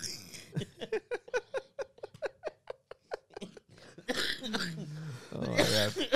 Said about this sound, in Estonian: mul on väike köha